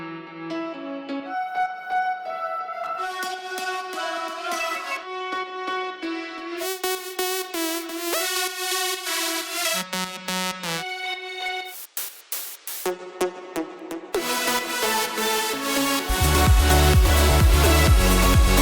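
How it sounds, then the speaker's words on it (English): Bright layered synth leads in a progressive house track play a busy melodic line with stacked tones, briefly thinning out before a deep bass and fuller stack enter near the end. "But in the context of all of the lead layers, which sound like this."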